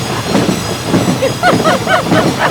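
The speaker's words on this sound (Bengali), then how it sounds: "আর ট্রেন ছুটে চলার শব্দ।" A train running on tracks, used as a sound effect in a horror audio drama, gives a loud, close rolling rumble with rhythmic clatter and brief squealing wheel tones.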